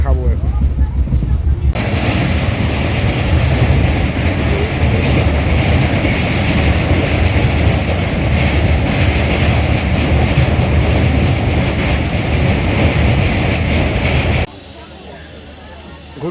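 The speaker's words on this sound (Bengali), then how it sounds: "93 কিলোমিটার জার্নি শেষ করে ট্রেন তমলুকে এসে দাঁড়ালো" Passenger train on the Digha–Kolkata Tamralipta Express route arriving at Tamluk station heard from onboard as a loud, steady rumble and rattle of wheels and carriage, continuing throughout before dropping off abruptly near the end.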